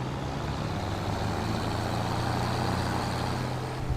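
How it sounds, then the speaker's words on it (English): Tractor engine idling steadily in the Farming Simulator 25 video game, a low, even diesel drone with a constant hum that holds at the same loudness throughout, with no talk over it. "I do like the way this one sounds, yeah. And it is a nice tractor."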